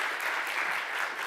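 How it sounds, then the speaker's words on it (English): Audience applause at a Talent Boost Summit as a speaker takes the stage, a brief, dense burst of many hands clapping, steady and fairly loud from start to end. "let's give her a warm applause"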